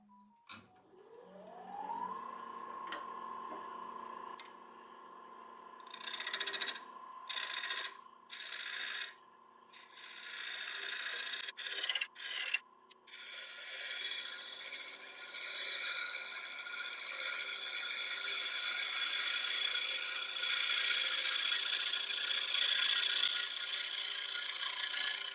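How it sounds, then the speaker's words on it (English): Wood lathe shaping the underside of an elm bowl, a rising motor whine followed by steady, loud, broadband scraping and cutting with brief interruptions, continuous and close. "So now I can start to shape the underside of the bowl."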